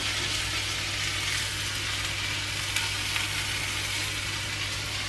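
Spinach wilting in a hot buttery pan while being stirred, a steady, close, dense sizzle that holds evenly throughout with faint utensil movement underneath.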